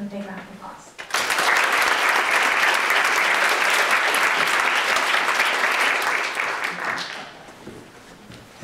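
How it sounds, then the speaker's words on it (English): A lecture audience breaks into loud, sustained applause that swells for several seconds and then fades out. "Please give him a big round of applause."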